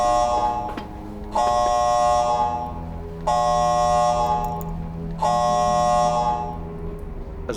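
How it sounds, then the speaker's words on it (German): A major incident alarm blares in an office building, a loud, harsh buzzing tone repeating in long blasts of about two seconds each, separated by brief quieter gaps. "The major incident alarm has sounded."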